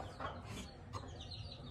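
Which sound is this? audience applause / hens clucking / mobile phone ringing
hens clucking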